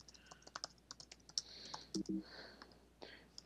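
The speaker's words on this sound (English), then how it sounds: "I'm typing how to do that." Light, quiet typing on a computer keyboard, scattered soft key clicks in irregular bursts with a few sharper taps, close by and unaccompanied by voices.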